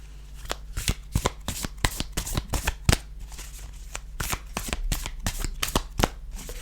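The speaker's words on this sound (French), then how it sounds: "Il accroche pas au brassage. Je vais vous faire une démo, notamment au niveau du bruit." A deck of playing cards being riffle-shuffled close up, a rapid run of crisp flutters and snaps repeating in quick bursts with no talking.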